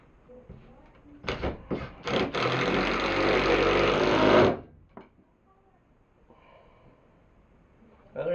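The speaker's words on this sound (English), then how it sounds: "Impact driver." An impact driver sinks a big screw in a workshop, with a couple of short bursts and then a loud, sustained rattling hammer for about two seconds that cuts off abruptly, followed by quiet.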